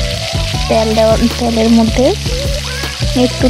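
Soybean chunks fry in hot oil with dry red chillies, cinnamon and whole spices, crackling loudly and close up, with stirring noises and a melodic tonal layer, like background music, over the sizzle.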